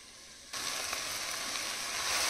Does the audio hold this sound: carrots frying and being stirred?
yes